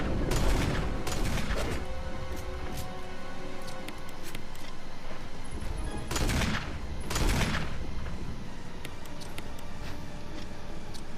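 Gunfire rings out in the Resident Evil 1 Remake during a fight, with a few loud sharp shots spaced apart over a steady bed of game music and ambience, mechanical clicks between them.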